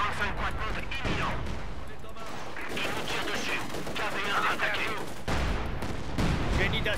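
Gunfire from a World War II battle in the strategy game Company of Heroes 2, with rapid bursts and volleys crackling steadily throughout, loud and layered under intermittent voices talking.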